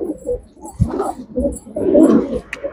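A pet pigeon coos in a few low, throaty bursts, close and fairly loud, with some handling noise in between.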